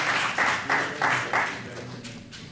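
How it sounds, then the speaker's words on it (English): Brief applause from a public meeting audience for Mark Bunker, bursts of clapping rising and fading in waves before trailing off. "I know we're not supposed to applaud Mark Bunker"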